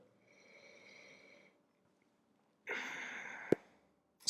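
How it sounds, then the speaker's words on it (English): A person takes a soft, close sniff of a glass of Pinot Gris wine, a quiet airy inhale followed by a pause, then a stronger breathy sniff and a small click. "let's give it a sniff"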